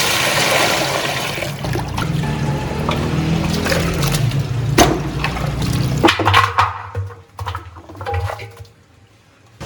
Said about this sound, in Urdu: اور 10 کلو ڈال دیں گے اس کے اندر پانی.